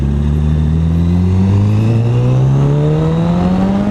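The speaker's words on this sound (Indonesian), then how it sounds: "Kita buka gas sedikit ya." A Honda CBR 1000RR 20th Anniversary motorcycle engine revs up as the throttle opens, its loud, close tone climbing steadily in pitch over a few seconds without pause.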